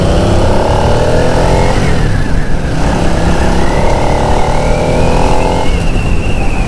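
A Harley-Davidson Sportster Nightster 975 motorcycle accelerates hard on the road, its loud engine note climbing in pitch through one gear, dipping at a shift, then rising again through the next, with no talking.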